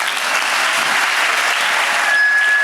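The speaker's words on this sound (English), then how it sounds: "Can you please give them a round of applause?" Steady, loud audience clapping at a concert by a US Air Forces in Europe band in Bitburg, a dense wash of applause with no voices, ending with a thin tone near the close.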